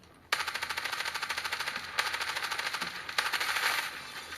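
Rapid automatic gunfire from the mobile shooter game Standoff 2 rattles out in three sustained bursts, loud and close, each a fast even string of shots with brief gaps between them and no talking.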